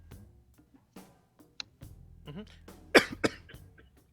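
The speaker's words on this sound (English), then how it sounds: "Cough." A sharp, loud cough bursts out near the end, followed by a second one, amid quiet clicks and faint vocal sounds close to the microphone.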